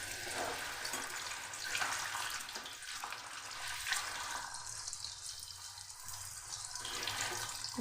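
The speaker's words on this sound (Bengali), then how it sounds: "সেই জন্য আমি গরম তেলের মধ্যে ছেড়ে দিচ্ছি" Raw banana slices frying in hot oil over a medium flame, a steady close crackling sizzle that fills the whole stretch without pause, with no voices.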